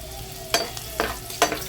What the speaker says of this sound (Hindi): पका लेंगे थोड़ी देर इसको ताकि लहसुन का कच्चापन चला जाए